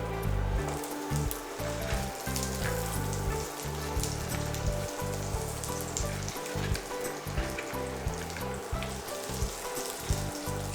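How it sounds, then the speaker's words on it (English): Beans dropped into a tablespoon of hot olive oil sizzle and crackle steadily and fairly loudly throughout, a dense frying hiss with scattered pops and no talk over it. "olive oil. Right. Put the beans in."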